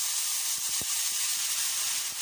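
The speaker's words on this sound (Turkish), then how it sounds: "Diğer tarafta fasulyemiz kavruluyor arkadaşlar" Green beans sautéing in oil in a pan for a Turkish tomato green bean dish, giving a steady, even sizzling hiss throughout with a few faint low clicks and no talk.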